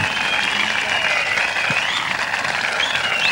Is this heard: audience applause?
yes